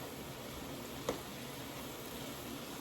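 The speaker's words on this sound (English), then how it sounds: "Let me stir this up a bit." Onions sizzling steadily in a hot pan, a constant quiet hiss with a single soft tap of a utensil as they are stirred.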